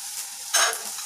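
Garlic frying in a pan makes a close, bright sizzle with one brief louder surge of stirring midway.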